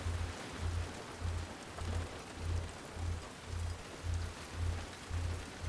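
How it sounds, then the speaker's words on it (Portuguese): Heavy rain pours steadily in The Last of Us Part II, a constant broadband hiss of falling water. A low, rhythmic pulsing repeats under it about twice a second. "Ih, a chuva aumentou, hein?"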